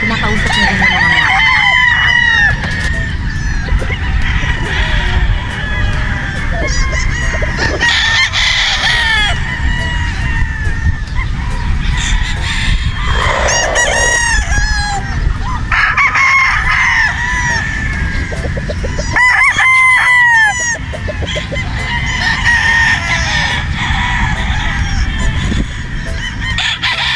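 Several gamefowl roosters crow repeatedly on a game farm over a busy farmyard background of clucking fowl and honking geese, with occasional voices mixed in.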